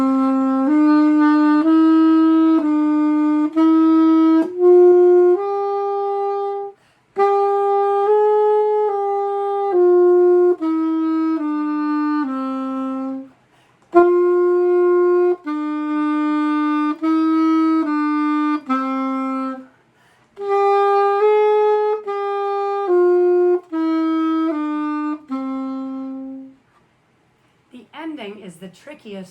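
Saxophone plays a soft, slurred exercise in smooth phrases of connected notes, separated by brief breaths, close and steady throughout, with a short burst of sound at the very end.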